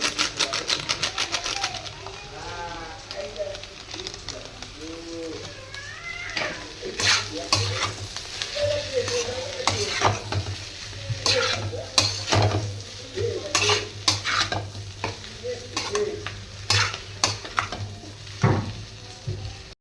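Phasa fish curry with potato, tomato and a little chilli powder being stirred in a pan, with repeated spoon scrapes and clinks over a steady low sizzle, close and fairly loud throughout.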